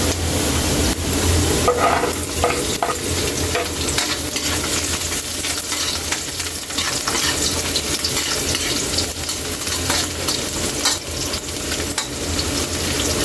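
Ginger and garlic fry and are stirred in a pan for a pork dinuguan, a loud, steady close sizzle with scattered scraping and clinks throughout.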